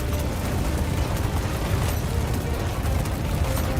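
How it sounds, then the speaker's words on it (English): Heavy turret gunfire from a Warhammer warship in the space game Squadron 42, a dense, continuous rumbling barrage of booms and rapid bursts that stays loud and unbroken throughout. "You can just see the pure amount of firepower one turret can bring to bear."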